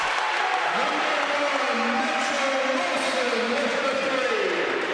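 A crowd at Platt Arena cheers and applauds after a made shot in a men's college basketball game, HU vs IU Kokomo. The broad, sustained roar runs under a commentator's talk.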